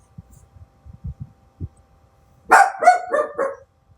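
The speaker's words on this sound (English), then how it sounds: "Stop trying to bark over me." A dog barks in a quick, close run of four or five yaps after soft low thumps and muffled sounds indoors.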